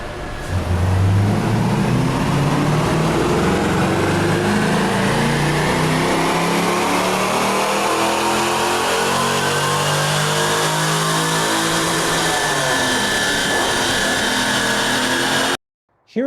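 A car engine on a dynamometer set to 10 degrees of spark advance, revving hard and climbing steadily through a long, loud pull before cutting off abruptly near the end, with no voices.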